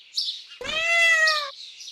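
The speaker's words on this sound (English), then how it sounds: "Cat." A cat gives one clear, drawn-out meow, close and loud, with faint chirping before and after it.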